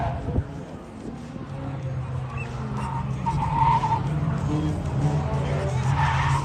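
Two Citroën race cars battling in a Fol'Car dirt race in Mayenne, engines revving and tyres skidding over loose ground, the noise building steadily, with a commentator talking over it.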